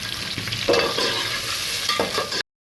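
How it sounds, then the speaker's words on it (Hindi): Oil sizzles steadily as onions fry in about a cup of oil in a pan with curry leaves, with a few scraping stirs, then the sound cuts off abruptly. "इस 1 प्याली ऑयल में मैं ये प्याज डाल दूंगी और इस प्याज को जो है मैं फ्राई करूंगी"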